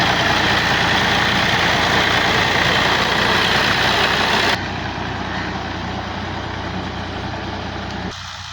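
A stuck tractor's heavy diesel engine rumbles loudly and steadily close by, keeping a constant low drone that steps down in level partway through.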